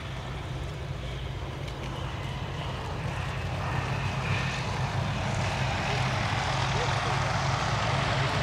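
A Hawker Nimrod Mk.1 biplane flies at the Duxford Battle of Britain Airshow 2023, its propeller engine giving a steady, fairly loud drone with wind rushing over it throughout.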